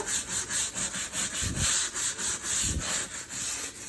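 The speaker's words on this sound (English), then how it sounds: "I'm just gonna take a wiry brush and scrub this area" Wire brush scrubbing dirty grout lines in quick back-and-forth strokes, a close, rhythmic scratchy rasp repeating about four times a second, with no talking.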